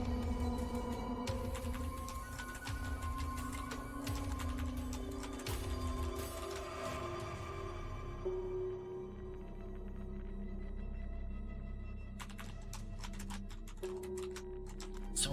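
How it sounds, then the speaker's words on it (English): Rapid clicks of keyboard typing from the Jujutsu Kaisen Cursed Clash video game. They tick steadily over a dense game soundscape with a low drone and music beneath, then come back in a brisk burst near the end. "Someone's typing."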